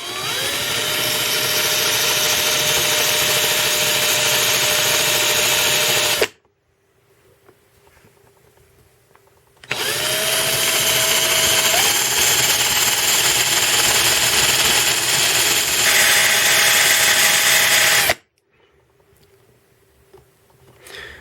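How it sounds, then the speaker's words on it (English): A Sachs Madass pit bike OO Racing cam spins in a running drill while a file takes an edge off it: two long, loud bursts of steady high drill whine, separated by a short quiet gap, with another pause near the end. "put this into a drill and just take off that slight edge there with a file"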